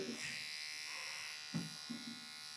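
An electric shaver buzzes steadily and close up as it cuts hair at a barbershop in Tanzania, with brief bits of voice rising over the hum.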